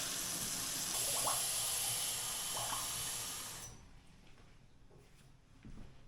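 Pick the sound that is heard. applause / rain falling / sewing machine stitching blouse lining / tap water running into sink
tap water running into sink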